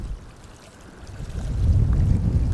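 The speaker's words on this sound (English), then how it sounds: "Oh, that wind is really picking up." Strong wind blows across open water at a fishing spot, a broad low roar that builds steadily and grows louder over a couple of seconds, with no voices.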